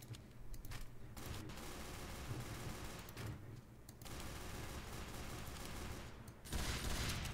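Team Fortress 2's Force-a-Nature scattergun fires in a fast, continuous run of blasts, fairly faint and distant, forming a dense rattle with brief gaps before a heavier thump near the end.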